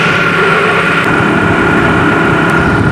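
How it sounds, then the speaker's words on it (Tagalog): A Mitsubishi 4G64 car engine idles loudly and close by with the air conditioning off, a rough, uneven rumble with a faint irregular stumble from a misfire and hunting RPM. "So ito yon ang tunog ng makina pag hindi naka aircon mga boss."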